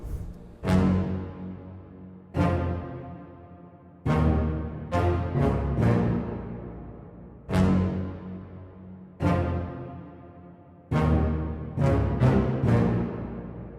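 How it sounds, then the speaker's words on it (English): Heavy orchestral low strings from a Project Sam Free Orchestra preset called Bombastic Basses strike forceful accented notes in bursts, each hit ringing out and decaying, with quick repeated stabs between longer sustained blows. "from the same Project Sam Free Orchestra, I chose this preset called Bombastic Basses,"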